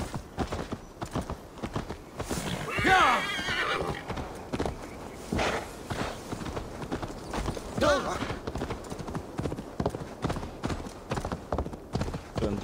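A horse in the Assassin's Creed Valhalla video game whinnies twice over steady clip-clopping hooves, with a player talking intermittently over the game sounds.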